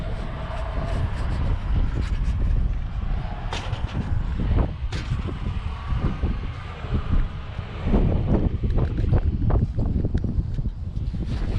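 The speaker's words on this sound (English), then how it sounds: "that wind's really blowing down" Wind blows hard and constantly, rumbling across the microphone with a steady roar and occasional knocks in the background.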